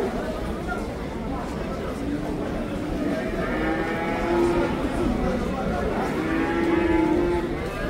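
Cows lowing at a cattle market in Taraz, several drawn-out moos rising over a busy background of crowd chatter and someone talking.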